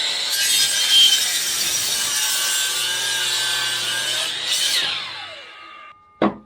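A DeWalt saw cuts through wood in one continuous, loud rasping pass with a ringing whine, which winds down toward the end before a brief sharp knock.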